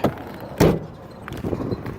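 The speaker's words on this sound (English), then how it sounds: "Shut the door." A single solid door slam of a 2016 Dodge Caravan wheelchair van near the start, followed by softer rustling and shuffling movement nearby.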